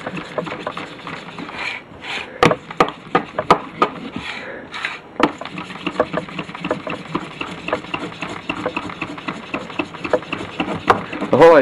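A hot clothes iron pressed and scraped across a circuit board to transfer toner, making dense rubbing and gritty scraping with irregular knocks and clicks, close and fairly loud.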